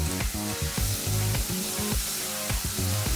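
Onions sizzling in a pan on low heat while being stirred for a Nagpuri onion curry, a loud, steady frying hiss broken by the scrape and knock of the spoon, close up with no talking.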